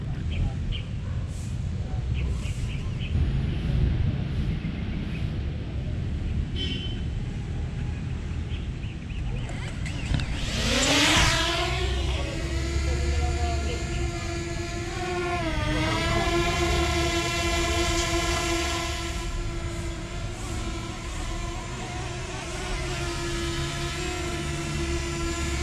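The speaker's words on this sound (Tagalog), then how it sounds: "ito na yung Mavic Mini natin mga kaunista. Hindi siya masyadong maingay kasi lit-lit lang niya" A DJI Mavic Mini drone lifts off and hovers nearby, its whining rotor pitch rising from about eleven seconds and then holding a steady buzzing tone over outdoor background noise.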